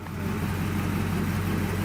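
A manual transmission car engine idling at a steady low rumble close by, with a slight rise at the start before settling into an even drone, no talk.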